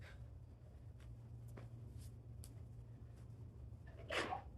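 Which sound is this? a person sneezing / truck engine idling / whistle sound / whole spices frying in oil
a person sneezing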